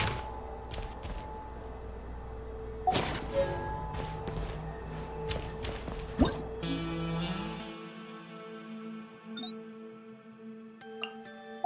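In Genshin Impact, a drink pours into a cup amid soft drips and liquid trickles, with light clinks and small clicks in a quiet setting, ending in near silence.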